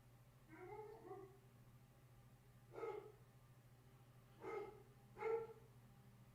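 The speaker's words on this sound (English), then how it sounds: "It's my dog barking, by the way." A pet dog indoors gives three short, muffled barks a second or so apart, fairly faint and distant over a steady low electrical hum.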